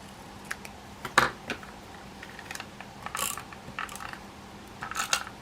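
A die-cutting machine working through card stock gives a run of faint clicking, ratcheting mechanical sounds with short bursts and pauses, heard close up with no talking.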